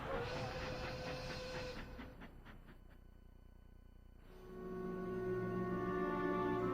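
A 1940s steam train sounds a long whistle and pulls away with hissing chuffs, then whistles again, fairly faint and with no talk.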